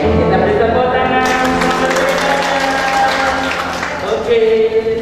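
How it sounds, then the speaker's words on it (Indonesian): A congregation applauds together during a Sunday worship service in a church, sustained clapping swelling over music and voices for several seconds. "Kita beri tepuk tangan."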